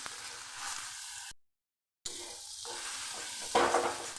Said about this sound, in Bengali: এবার আমি দিয়ে দিচ্ছি আদা রসুন বাটা একসঙ্গে বেটে নিয়েছি, দিয়ে দিচ্ছি কাঁচা জিরে ধনের গুঁড়ো একসঙ্গে, দিয়ে দিচ্ছি হলুদ।